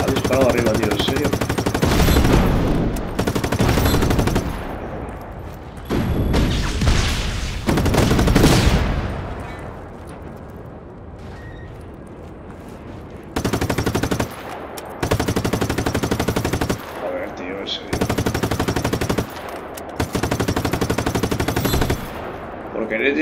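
Gunfire in the Just Cause 3 video game: loud, rapid machine-gun bursts in long sustained volleys, broken by brief pauses and then several separate clipped bursts, close and dominant.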